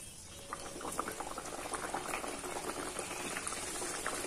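Layered chirote pastry fries in heated oil, a continuous dense bubbling sizzle with crackling pops, close and steady throughout.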